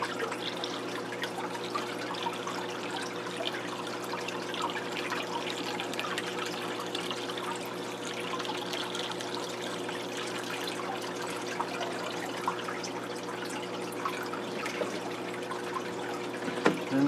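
Aquarium water is poured from a bucket into a tank: a soft, continuous trickling and splashing that runs steadily for many seconds with faint background hum, no talking.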